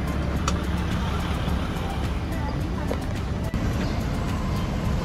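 City traffic in Philadelphia heard from aboard a tour bus: a steady, dense roar of cars and engines fills the whole stretch, close and fairly loud, with no clear voices.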